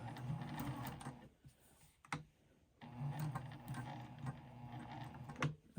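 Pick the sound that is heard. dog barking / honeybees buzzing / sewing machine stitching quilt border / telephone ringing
sewing machine stitching quilt border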